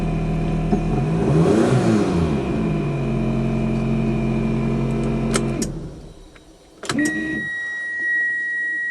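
A car engine already running at idle with a steady hum, a brief rev rising and falling early, then the sound drops and a sharp mechanical click and tone follow near the end.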